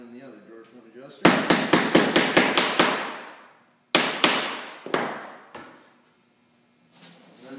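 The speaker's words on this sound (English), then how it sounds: "Hammer in the other drawer front adjuster." A drawer front adjuster hammered into a Euro-style drawer front, heard as a fast burst of about eight sharp hammer strikes, then a pause and three more spaced blows, close and loud.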